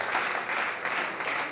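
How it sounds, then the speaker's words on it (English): Steady round of applause from a gala night audience in Ikwere, dense continuous clapping filling the room at an even level without pause. "Please, a round of applause."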